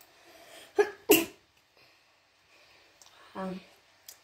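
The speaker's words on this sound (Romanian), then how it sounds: "Hapciu." A single sharp sneeze bursts out close to the mic amid a Minecraft gaming session, set among brief breaths and small clicks with a short throat-like noise afterward.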